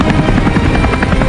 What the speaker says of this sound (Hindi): चीन की एक खुफिया टीम ने कैलाश पर्वत की ओर एक विशेष हेलीकॉप्टर रवाना किया